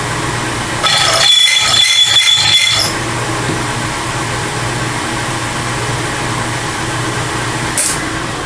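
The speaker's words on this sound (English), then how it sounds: "This drill is not doing what I want it to." A power drill whirs in a few short bursts near the start, then a steady mechanical hum carries on alone.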